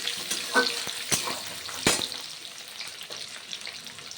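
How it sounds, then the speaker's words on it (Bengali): Half-boiled potatoes frying in a pan while being lightly stirred, a soft sizzle broken by a few scraping stirs of a spatula, close and moderately quiet, no talking. "হালকা নাড়াচাড়া করে ভেজে নিচ্ছি আলুগুলো"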